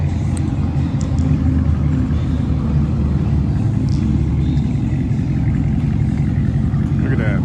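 Dodge Challenger R/T with its muffler and resonator deleted, a loud, steady, deep rumble from the engine holding close and constant throughout, with no other sound rising above it.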